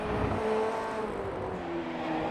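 An FF1600 race car engine in iRacing accelerates on the Rudskogen Motorsenter track, a steady, close buzzing drone whose pitch climbs and shifts under load, with no voices over it.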